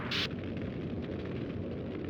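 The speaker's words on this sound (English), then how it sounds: "I just blew the motor in qualifying" A race car engine blows with one short, loud burst in NASCAR Thunder 04 during qualifying, followed by steady low engine rumble.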